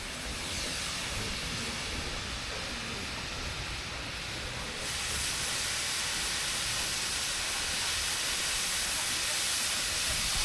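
Steam locomotives at a station during the Keighley and Worth Valley steam gala blow off steam in a continuous broad hiss that grows louder partway through and holds steady, heard from nearby without talk.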